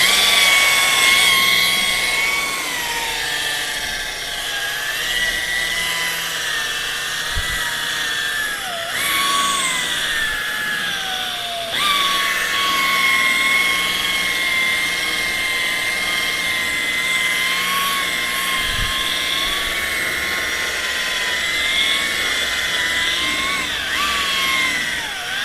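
A power tool buffing a foggy headlight lens at low speed, around 1,000 RPM, gives a loud continuous whine with shifting pitch and brief dips, close up with no talk.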